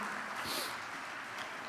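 Church congregation applauding at a youth worship service, a soft, steady patter of many hands heard from a distance, fairly faint and continuous.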